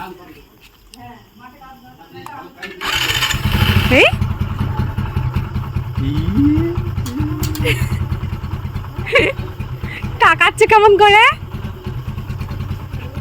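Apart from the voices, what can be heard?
motorcycle engine idling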